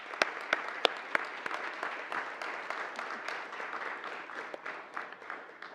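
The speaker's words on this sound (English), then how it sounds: "One more round of applause for everybody." An auditorium audience at a science and engineering fair award ceremony keeps up steady applause. A few sharp claps stand out at first, then the clapping settles into a soft, even wash from a crowd, with no one speaking.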